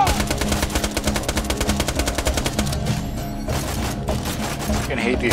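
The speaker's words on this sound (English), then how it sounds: "The longer you shoot them, I want to be accurate when I start shooting, not 30 bullets in." Sustained machine gun fire in Borderlands 2, a loud, fast, evenly spaced stream of shots for about three seconds, then scattered impacts and effects, with voices in the mix.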